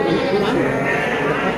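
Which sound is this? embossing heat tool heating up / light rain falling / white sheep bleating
white sheep bleating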